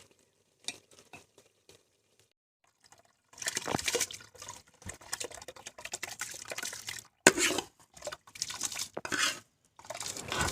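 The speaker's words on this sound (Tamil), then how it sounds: "இப்போ அரிசி போட்டுக்கலாம்" Dry rice pours and scatters into a metal pot of mutton biryani, followed by stirring and scraping with a spoon, with clattering and a sharp knock midway.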